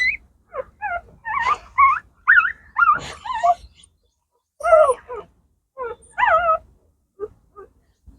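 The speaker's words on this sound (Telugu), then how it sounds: "అయితే కుక్క పిల్లలు చూడండి ఫ్రెండ్స్" Newborn puppies with eyes still closed, wet from rain, give a run of high, wavering whimpers and squeaky cries, close by and in short bursts separated by brief silences.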